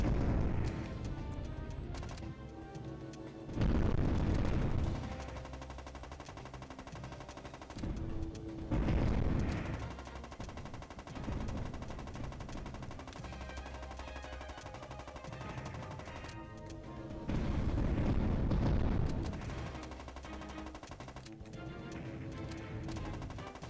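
A gun emplacement firing a dense bullet-hell pattern in the PS2 arcade shooter Borderline: sustained rapid gunfire and heavy booming bursts layered over game music, swelling in several loud waves.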